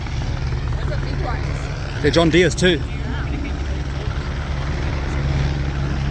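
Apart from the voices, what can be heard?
helicopter at an agricultural show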